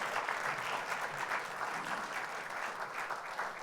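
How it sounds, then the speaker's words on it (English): Steady applause from an audience at an education innovation awards ceremony in San Diego, soft and distant, continuing evenly without talk. "Another round of applause for Austin and Fernando"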